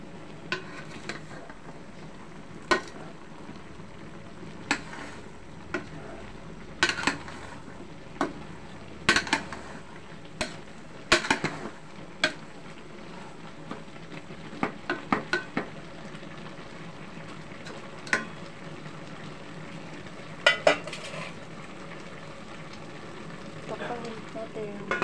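Ginataang gabi with tinapa and pork skin is stirred in a pot, with scattered sharp scrapes and clinks of a utensil against the metal over a quiet simmer, loud and close.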